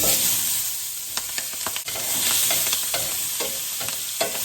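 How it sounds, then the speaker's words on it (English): Onions for beef stew sizzle loudly in a pot over medium-high heat, a steady crackling hiss broken by several spoon stirs and scrapes. "I'm gonna add in my onions."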